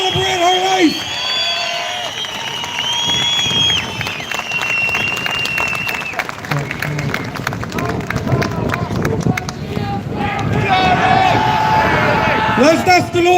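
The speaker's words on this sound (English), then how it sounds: "Give a big round of applause to Dolores Wogan and celebrate her life" A crowd at a Dublin demonstration applauds and cheers for Dolores Wogan in a long, loud, continuous wash of clapping, with voices and shouting mixed throughout.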